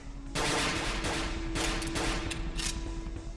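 Gunfire in the horror video game Cry of Fear crackles in rapid, overlapping bursts that sound like a sustained fusillade. The shots are moderately loud and are heard alone, with no talking over them.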